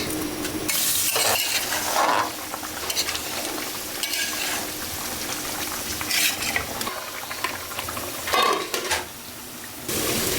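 Onions and chillies frying in hot oil for a tempering, a steady close sizzle with stirring and occasional clinks of a pot and utensil, plus brief bursts of running water.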